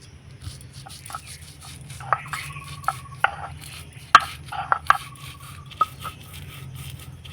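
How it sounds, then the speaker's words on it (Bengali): Soaked chana dal is ground coarsely on a stone slab with a grinding stone, giving scraping, rubbing strokes punctuated by sharp knocks and clicks of stone on stone, close by. "তো এবার আমি শিলপাটে বেটে নেব।"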